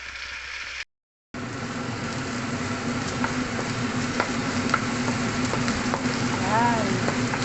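Onion frying for chicken curry, a continuous close sizzle with light stirring scrapes and clicks after a brief cut to silence, no talk.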